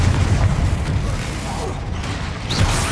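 Bombarda and Confringo spell blasts in Hogwarts Legacy, the fantasy video game: a dense, busy mix of rumbling booms, creaking mechanical clatter and sharp bursts near the start and end, loud and continuous.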